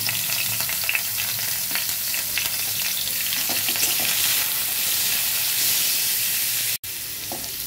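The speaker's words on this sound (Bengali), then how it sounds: "পেঁয়াজ কুচিটা দিয়ে দিচ্ছি।" Chopped onions fry in hot oil with nigella seeds in a wok, a close, dense and steady sizzle with light stirring clatter that cuts out abruptly near the end.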